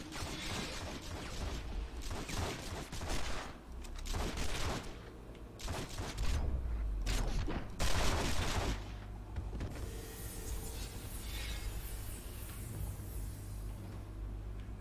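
Sustained rapid gunfire and bursts of shooting from a video game, loud and continuous with sharp crackling volleys and rumbling low booms throughout.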